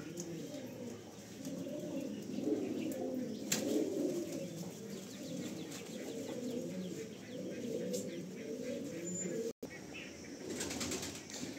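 Pigeons in a loft coo steadily and overlap one another, with occasional wing flaps, heard close and fairly quiet throughout.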